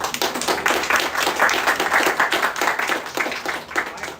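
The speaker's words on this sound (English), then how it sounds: "Give yourself applause." An audience at a book reading in a bookstore claps steadily and densely for several seconds, a close, continuous patter of many hands with no voices.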